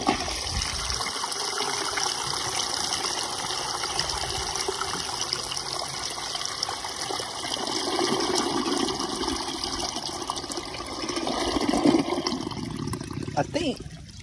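A 1920 standard ejector toilet with a weak, partially clogged flush: water gushes and trickles softly at moderate distance, swelling toward the end before a brief clatter, with no talk over it.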